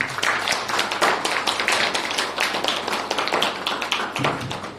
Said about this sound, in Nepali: परमेश्वरलाई हामी ताली बजाएर धन्यवाद दिनेछौँ